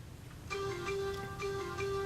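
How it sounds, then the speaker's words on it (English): A mobile phone rings or chimes with a steady electronic tone pattern in short repeating pulses, faint and fairly quiet over a low background hum, with no talk during it. "excuse my phone for being annoying"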